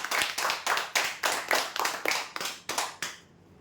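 Applause at a prize draw ceremony greeting a winner of a bed prize, bursts of hand clapping in regular rhythmic waves that fade out at the end, no talk.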